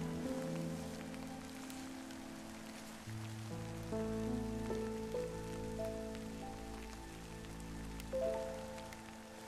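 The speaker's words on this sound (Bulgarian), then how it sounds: "Дъждът завалява някак изведнъж, вали силно и кротко." Heavy, steady rain falls over a lagoon in the Ropotamo reserve, a dense even patter of drops across the whole stretch, with soft sustained music tones running beneath it.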